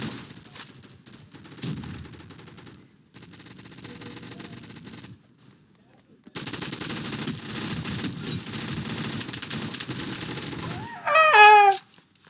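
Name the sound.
automatic gunfire in the video game Gun Fire Arena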